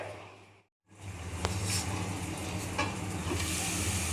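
Soya chunks and potatoes frying with spices in a pan, a continuous sizzle with a brief gap near the start, then a few clinks as the mix is stirred, close and without talk.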